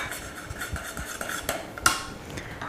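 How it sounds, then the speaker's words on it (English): A spoon stirs a cherry and butter pudding in a pot, soft repeated scraping swishes in a loose rhythm with a small clink of metal against the pot near the middle. "just to keep on stirring, keep all the ingredients engaged"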